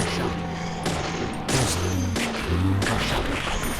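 Gunfire in a horror video game: several sharp, loud shots in quick succession over a busy background hum, each a punchy crack with a short tail.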